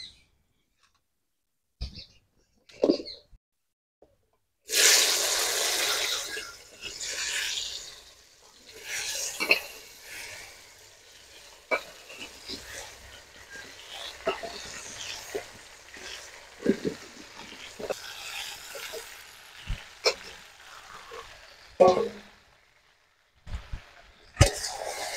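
Jujube fruits tumble into hot oil spiced with dried red chillies and kalonji for a homemade sour-sweet-spicy kul pickle, bursting into a loud sizzle that crackles and pops steadily for about twenty seconds with sharp clicks scattered through it.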